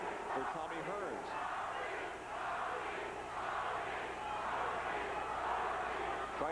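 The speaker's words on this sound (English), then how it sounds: "The crowd chanting for Tommy Hearns." A boxing arena crowd chants for Tommy Hearns during the ninth round of a WBA light heavyweight title fight against Iran Barkley, a rolling mass of voices rising and falling in waves, somewhat distant and steady throughout.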